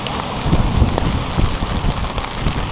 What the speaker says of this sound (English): I've got the wind, the rain.